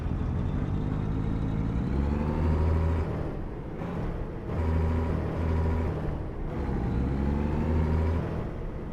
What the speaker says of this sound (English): it's quite nice to be driving this T680 again